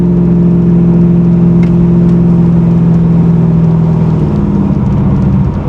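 A 500hp 1987 Chevy Monte Carlo SS with a 2600 stall converter drones loudly and steadily under acceleration, its engine pitch holding level before easing into a slight change near the end, with no talk.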